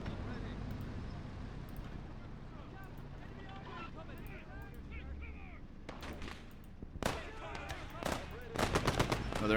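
An enemy machine gun fires in a WWII tank battle game, with bursts of rapid shots that grow denser and louder toward the end over a steady rumble of engine and battlefield noise.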